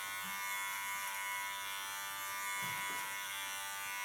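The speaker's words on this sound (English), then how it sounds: "So I take a clipper. I free the ears." An electric clipper trims fur around the ears, giving off a steady, even buzz that holds unbroken for the whole stretch with no voices.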